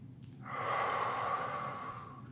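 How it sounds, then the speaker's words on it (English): One slow, deep breath drawn in and released through the nose during a held yoga pose, a soft airy rush that swells and fades, close and quiet with no talking. "We're doing 3 breaths here."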